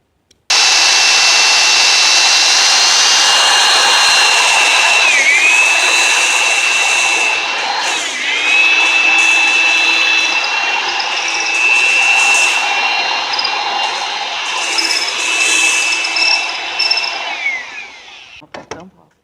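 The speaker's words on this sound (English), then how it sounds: "we're going to drill a hole right dead center in the middle of the dowel" A drill bores a hole through the center of a wooden dowel, a loud whining motor held steady for most of the run with a couple of brief dips in pitch as it bites into the wood, then spins down at the end.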